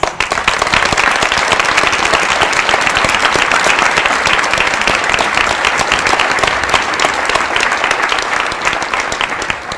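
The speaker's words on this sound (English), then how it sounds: "please stand and receive a round of applause" Loud, sustained applause from a large audience at a school senior celebration honouring military service members, a dense, even roar of clapping lasting the whole stretch.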